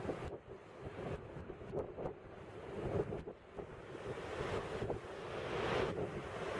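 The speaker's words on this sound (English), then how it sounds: "The waves crashed in like a storm, destroying everything in their path and causing severe erosion of the coastal mountains" Ocean waves crash onto the coast in Typhoon Yagi on Hainan, a constant churning roar of surf with heavy wind noise buffeting the microphone and swelling louder toward the end.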